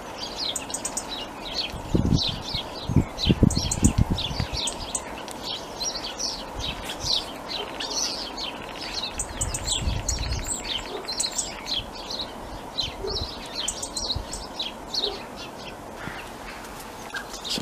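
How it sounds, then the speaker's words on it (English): A common starling sings a continuous, busy stream of whistles, clicks and chatter, with a blue tit nearby, outdoors among hazel trees, over a low rumble and some thumps near the start. "The starling's doing a hell of a concert on its own."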